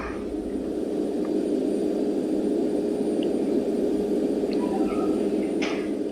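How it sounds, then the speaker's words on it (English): An airplane engine in a flight simulator game drones steadily and loudly throughout, a constant roaring hum with faint higher whines over it and no talking. "that's me playing with the sound so you can hear more of how advanced this plane is compared to a regular sim"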